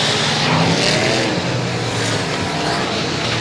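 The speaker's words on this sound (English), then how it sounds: "Smith fires the car back up." A limited modified race car engine fires back up after a spin during a night race, giving a loud, steady, close roar with a constant rumble for the whole stretch and no one talking.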